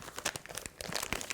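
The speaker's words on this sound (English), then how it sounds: "we are going to open this bag up" Crinkling plastic bag of candy being opened, a quick run of sharp rustles and crunches close by, no voices.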